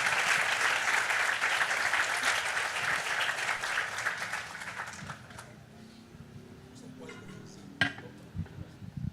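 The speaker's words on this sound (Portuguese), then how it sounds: "Ou espere o aplauso" Audience applause fills a literary event, loud dense clapping for about five seconds that then fades, leaving scattered claps and quiet room noise.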